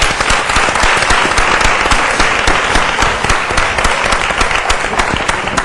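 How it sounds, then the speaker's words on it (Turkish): Studio audience applause welcoming a guest onto a Turkish talk show about hair transplants, a dense, steady wash of many hands clapping close and loud throughout, with no voices over it. "Alkışlarla"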